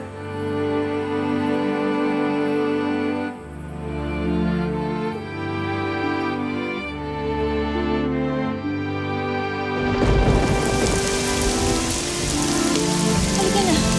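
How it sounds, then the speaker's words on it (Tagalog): Rain falls steadily under a swelling musical score, then grows into a loud, hissing downpour that washes over everything in the final few seconds. "Umuulan na, Ivan."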